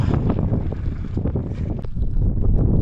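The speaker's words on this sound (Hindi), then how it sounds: "हवा चल रही है फुल टाइम तेज़" Strong, steady mountain wind gusts at high altitude, buffeting the microphone as a continuous loud rumble that rises toward the end, with no talking.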